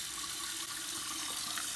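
Steady hiss of water running from a tap, faint and continuous with no voices.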